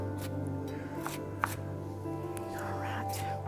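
A sharp knife chopping green tomatoes on a board, a few quiet scattered cuts over a low kitchen hum.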